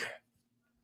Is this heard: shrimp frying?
no